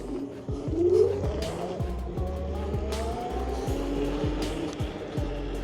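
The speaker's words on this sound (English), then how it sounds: "the front tire breaks traction pretty quickly" A 48V dual hub motor Razor MX350 electric dirt bike whines and rises in pitch as its front tire breaks traction, a continuous close electric motor tone with rhythmic ticking and some tire scrub, no talk.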